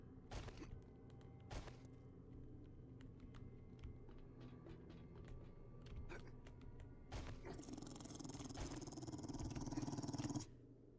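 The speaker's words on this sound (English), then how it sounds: "Okay, there was a dog." Dog growling in the video game 7 Days to Die, a low continuous snarl behind clicking keys and sharp game knocks, swelling louder near the end before cutting off.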